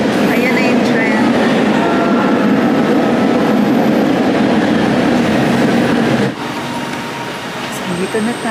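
LRT train at Gombak station, Kuala Lumpur, giving a loud, steady rolling rumble with a broad roar that drops off suddenly near the end, leaving quieter station ambience behind.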